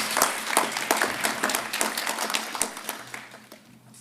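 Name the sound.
audience applause at a graduation ceremony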